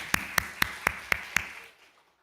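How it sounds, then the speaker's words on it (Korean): A church congregation at a Sunday worship service claps in unison: six sharp, evenly spaced claps in a steady beat, then the room falls quiet. "박수, 박수, 박수."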